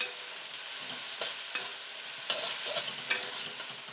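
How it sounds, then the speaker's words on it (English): Prawns stir-fry in a hot pan for Singapore noodles, a steady close sizzle broken by intermittent scraping and tossing strokes from stirring, with no talking. "Prawns actually won't take very long to cook, so let those stir fry in."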